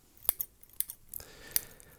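Metal scissors handled up close on a highly sensitive microphone, giving a few sharp, crisp snips and clicks spaced apart against near silence.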